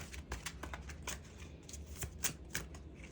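Occult Tarot cards being shuffled by hand, a run of quick papery riffles and soft slaps in an uneven rhythm, close and fairly quiet, with no talking.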